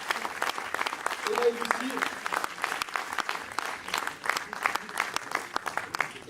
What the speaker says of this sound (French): on peut applaudir effectivement